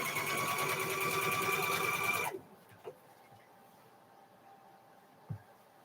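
A sewing machine runs steadily at speed on a Highland cow quilt, then stops abruptly, leaving a quiet room with a couple of small clicks.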